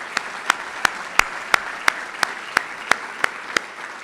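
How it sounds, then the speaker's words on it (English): Audience applause at a business awards event: an even wash of crowd clapping with sharp individual claps standing out at a regular rhythm. "If we can give the Cornhusker and their team another huge round of applause."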